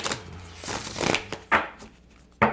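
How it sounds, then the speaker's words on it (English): Akashic tarot cards being shuffled by hand at close range, a few quick riffling and slapping bursts with brief pauses between them, quiet and without talk. "A lot easier to shuffle these."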